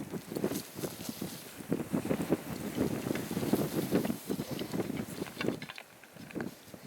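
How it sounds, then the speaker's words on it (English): Strong outdoor wind buffets the microphone in uneven gusts, loud rumbling bursts rising and falling for several seconds with no voices. "that wind is atrocious"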